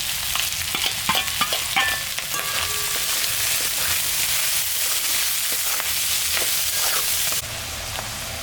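Chopped potatoes and spring onions fry in hot fish oil with salt and turmeric added, a steady close sizzle broken by repeated scraping and clattering stirs of a spatula against the pan, with no talking.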